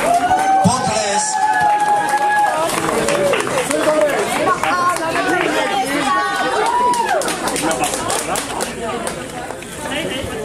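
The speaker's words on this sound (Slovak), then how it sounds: "Potlesk." An outdoor crowd at a halušky cooking contest award ceremony claps steadily for the placed teams, a dense patter of hands under lively chatter and voices throughout.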